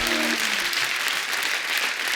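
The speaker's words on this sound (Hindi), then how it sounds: "एक बार जोरदार ताली हो जाए।" Studio audience at a comedy talk show claps steadily and loudly, a dense even wash of applause with a brief musical sting at the very start.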